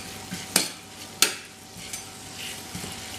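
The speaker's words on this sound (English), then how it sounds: "Yeah, just get things stirred around a bit." Onions with a few mushrooms are stirred in a stainless steel pan over a soft sizzle. Two sharp utensil scrapes and knocks stand out, followed by lighter stirring.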